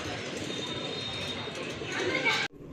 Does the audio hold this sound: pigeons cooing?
yes